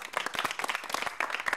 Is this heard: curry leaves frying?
no